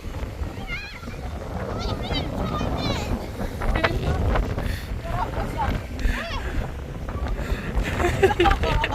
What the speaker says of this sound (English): it's windy as